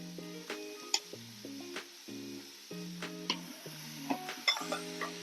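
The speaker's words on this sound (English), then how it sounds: "Give that a nice stir" Celery and carrots stirred in oil inside an Instant Pot, with soft sizzling and scattered scraping clicks of the spoon, heard under steady background music with clear tones throughout, fairly quiet.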